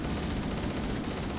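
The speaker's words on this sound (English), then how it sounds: "Oh, alright, there's a secondary explosion." Explosions from Halo: Combat Evolved form a steady dense rumble of blasts and crackling debris that fills the short stretch without pause, fairly loud, with no voices over it.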